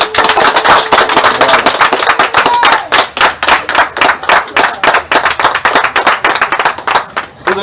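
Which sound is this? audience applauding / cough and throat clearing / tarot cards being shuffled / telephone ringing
audience applauding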